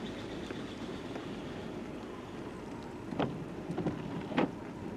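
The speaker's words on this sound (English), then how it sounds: "Currently raining" Steady rain falls on a vehicle during a drive through the Montana backcountry, making a soft continuous hiss with a few faint taps and clicks standing out near the end.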